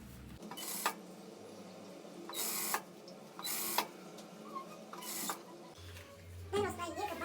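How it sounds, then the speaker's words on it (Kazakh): A sewing machine stitched the side seams of trousers in repeated bursts of rapid mechanical whirring with pauses between runs, close by, ending with a few handling clatters. "Екі жағын тігіп аламыз."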